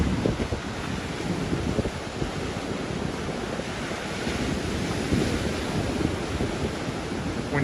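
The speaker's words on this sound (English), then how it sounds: "Wind's still going" Wind gusts across the microphone over rolling surf on a sea-fishing beach near Southwold Pier at night, a constant loud rumbling wash with low buffeting throughout and no speech.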